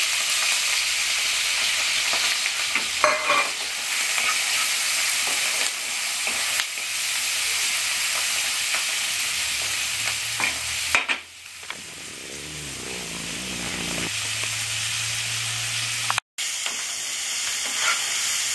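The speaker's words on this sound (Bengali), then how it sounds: "দিয়ে আমি মাছটাকে ভালো করে মেখে আমি মাছটা ভেজে নেব প্রথমে।" Salt-and-turmeric-coated fish frying in oil in a kadai, a steady loud sizzle with occasional stirring scrapes, the hiss dipping briefly partway through before resuming.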